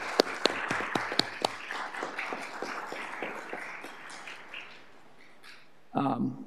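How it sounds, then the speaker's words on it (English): Scattered audience clapping breaks out at a school district governing board meeting, a handful of close, distinct claps at first thickening into light applause before fading, followed by a brief voice at the end. "Maybe we can give them a round of applause."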